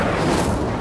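Hogwarts Legacy's Incendio fire spell going off as a brief, loud roaring flare with a deep rumbling body, lasting under a second.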